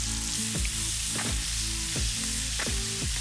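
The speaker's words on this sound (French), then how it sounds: "On va faire cuire les lardons, la gélinotte à travers tout ça." Bacon lardons and ruffed grouse fry in a pan with a steady, close sizzle. Sharper crackles and stirring scrapes recur about every second. Nobody speaks.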